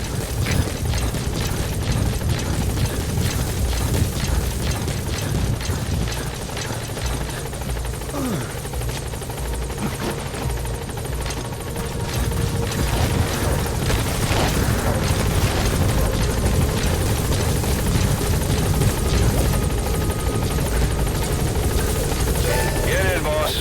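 A support helicopter arrives at a landing zone in Metal Gear Solid V: The Phantom Pain, its rotors beating in a loud, constant chop that fills the scene while voices speak over it.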